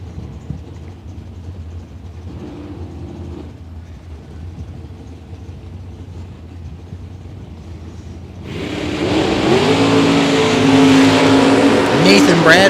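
Drag race launch of a 1982 Mustang and a 1979 Camaro at a bracket race: a steady low engine rumble under a commentator's voice, then a sudden loud surge of roaring engines for the last few seconds.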